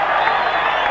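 Football stadium crowd at a 1990 Marlboro Cup match between Colombia and the USSR, a loud, steady roar of cheering that fills the whole moment without a break.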